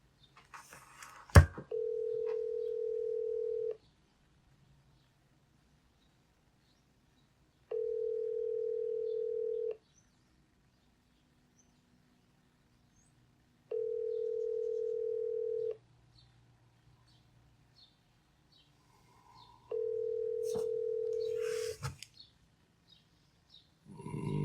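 A telephone rings out on a radio call-in line, four long, even electronic tones spaced by equal silent gaps, with brief clicks and rustle at the start and end.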